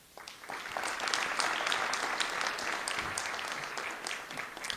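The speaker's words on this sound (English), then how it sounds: "Let's give them a round of applause." Audience at a formal dinner reception honoring a visiting prime minister breaks into applause that swells quickly and holds as a steady, moderately loud clatter of many hands.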